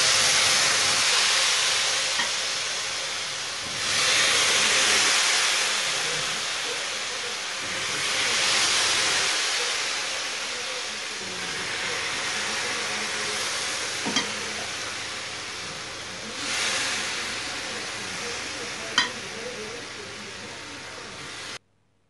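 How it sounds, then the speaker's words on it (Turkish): Cold syrup is poured slowly over hot fresh-baked basma kadayif, giving a soft continuous sizzle and hiss that swells and fades in waves, with a couple of small sharp clicks. "soğuk şerbetimizi tatlımızın üzerine gezdiriyorum"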